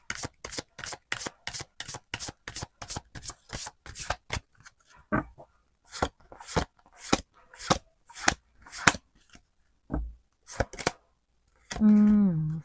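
Lenormand cards are shuffled and laid out on a table, a rapid run of crisp card snaps that slows into separate taps, ending in a short burst of speech.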